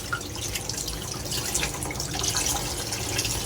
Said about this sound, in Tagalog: Saka naman natin huhugasan pagkatapos natin tanggalin ang kanyang mga tinik.